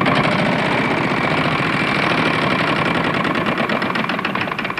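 A Wheel of Fortune game show wheel spins on a 1996 French television broadcast, giving a loud, dense, rapid ratcheting clatter that continues without a break for several seconds.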